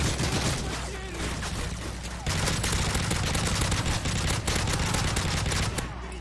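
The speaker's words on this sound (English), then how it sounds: "Getting shot with your own assault rifle, huh?" Assault rifle fire in Modern Warfare 3 Survival Mode, dense continuous bursts of automatic gunfire amid loud game combat noise.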